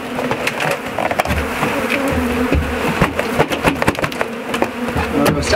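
Dense swarm of honeybees buzzing loudly and close as they are knocked into a hive box, a continuous droning hum with occasional sharp knocks and bumps throughout.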